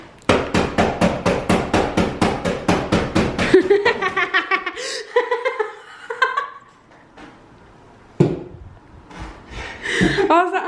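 Rapid rhythmic hammering bursts from a wall chaser cutting a channel in a bathroom wall, loud and close for several seconds, then voices and laughter with intermittent tool noise.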